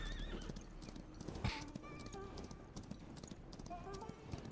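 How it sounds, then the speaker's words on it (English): Horse hooves clip-clop steadily in the Western video game Far Far West, with a neigh partway through, all under ongoing talking and game ambience. "Oh, I keep forgetting I've got a fucking horse."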